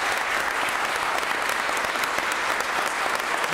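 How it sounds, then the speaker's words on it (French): Steady, dense applause from an audience at a youth public-speaking competition final, honoring the organizing federation, filling the space evenly from start to finish with no voices above it. "je pense qu'on peut sincèrement applaudir la fédération qui a organisé cet événement"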